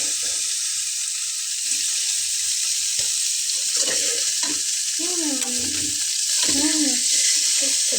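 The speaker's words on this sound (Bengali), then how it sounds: "তো আমি সবগুলো ঢ্যাঁড়সকে ভেজে তুলে নিয়েছি" Okra fries in oil in a wok for a Bengali niramish posto dish, producing a loud, steady, hissing sizzle that runs throughout, with a voice speaking briefly underneath near the end.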